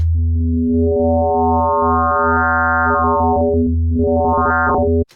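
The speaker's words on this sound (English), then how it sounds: "the interesting part comes when we wavefold this sine wave" A loud wavefolded sine wave synthesizer tone with rich, bright harmonics that swell and recede in two sweeping arcs, then cut off abruptly.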